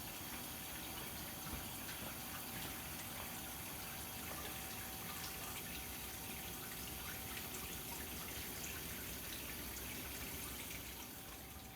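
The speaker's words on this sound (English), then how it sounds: "I'm going to start running the water" Tap water runs steadily to fill and cool a setup for a heat transfer lab, a continuous broadband rush with a faint steady hum underneath and no one talking.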